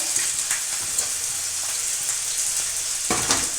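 Whole cloves, black pepper, cardamom, cinnamon and bay leaf sizzle steadily in hot oil in a pan, a close, even hiss broken by small crackles and pops.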